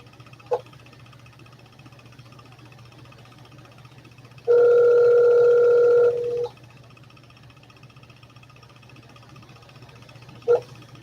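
A telephone call rings out with one steady electronic ringback tone lasting about two seconds over a low background hum. Faint clicks come just before and well after it.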